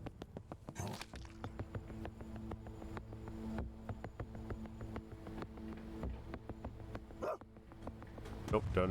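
In the video game Tactical Breach Wizards, a dog barks repeatedly in short sharp bursts over a continuous game soundtrack and ambient hum, with occasional louder clicks and thumps.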